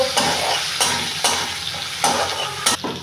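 Spices, chopped onion, green chilli, garlic, ginger and a little tomato sizzle steadily in a pan while a spatula scrapes through them in regular strokes, close up and with no talking.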